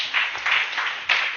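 Church congregation applauding in a short, hissy burst of clapping that swells and fades in a few pulses over about a second.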